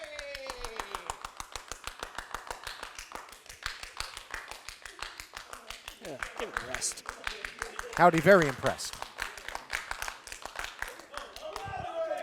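A wrestling show crowd claps in a steady, rapid rhythm throughout. Commentators talk over the applause, and a brief shout rises near the middle.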